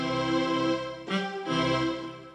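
Sustained saxophone and string tones blend in a steady chord, with a short break in the middle before the harmony resumes, no voices.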